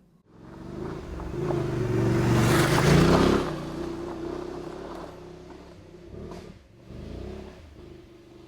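A Voge DS900X adventure motorcycle ridden off-road, its engine droning steadily and swelling as it revs harder for a few seconds, then easing back to a lower rumble with small throttle changes, close and loud.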